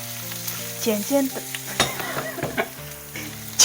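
Eggs stir-fried with chopped chili over high heat, a steady loud sizzle broken by clattering spatula scrapes and tosses against the pan.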